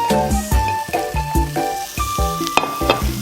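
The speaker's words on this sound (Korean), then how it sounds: "고르게 볶아주세요." Kimchi stir-fried in a pan over medium heat, a steady close sizzle broken by repeated scraping stirs of the spatula, with no talk.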